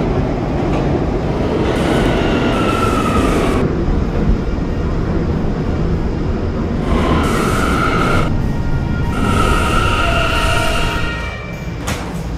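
A K line subway train runs continuously, a loud sustained rumble and rattle of wheels on track with brief squealing tones rising and fading over it.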